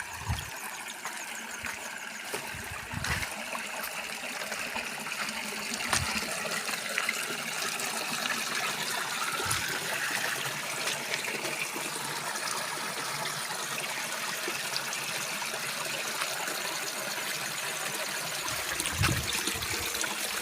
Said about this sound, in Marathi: सुंदरसा एक धबधबा आता आपल्याला लागलेला आहे